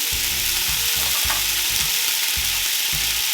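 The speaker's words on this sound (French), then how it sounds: "vous venez déglacer au jus de citron" A pan deglazed with lemon juice right after frying skate wing gives a strong, steady sizzle and hiss, with repeated low thuds and scraping from a utensil working the pan, close and loud, with no voices.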